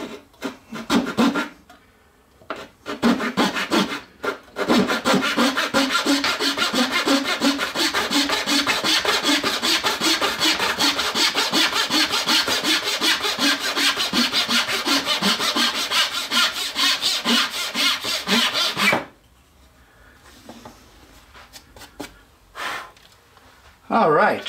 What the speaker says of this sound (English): we'll cut this piece as if we're terrible with a handsaw